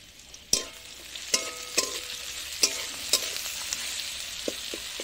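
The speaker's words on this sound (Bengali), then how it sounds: "আজকে পুরো কাঁচা লঙ্কাতে রান্না করা আর সর্ষে তেলে রান্না করছি" Fish curry with green chillies and red chili in mustard oil cooking on a clay stove: a soft, steady sizzle runs under sharp scraping and clacking stirring strokes at irregular intervals.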